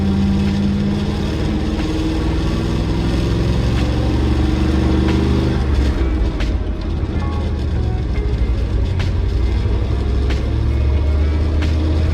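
A car engine runs after repair on a suspected blown motor, droning loud and close with pitch swings as it revs up and settles, continuous throughout without talk.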